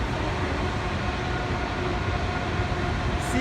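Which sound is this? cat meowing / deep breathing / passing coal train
passing coal train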